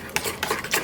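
A spoon stirs and mixes ingredients in a bowl, giving a few quick scraping clinks spaced across a short, close moment, with no talking.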